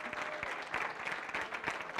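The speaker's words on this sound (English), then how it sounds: "Round of applause for that." An audience at an organisational-change keynote gives a short round of applause. A few distinct claps sit within a steady, moderate wash of clapping that runs for about two seconds.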